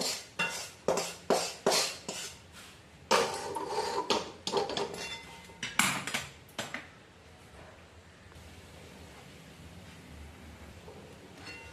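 Semolina (rava) tipped from a pan into another vessel: a series of sharp metallic scrapes and clinks of a spoon against cookware, close and distinct, thinning into a quiet hiss for the last few seconds.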